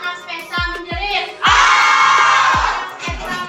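A crowd of school children at an Indonesian school screams together on command, a loud sustained burst of shrill shrieking lasting about a second, framed by sharp rhythmic claps and drum-like thumps.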